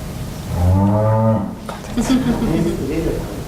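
A cow moos in an educational video game, one loud, drawn-out tonal low lasting about a second, followed by a person speaking.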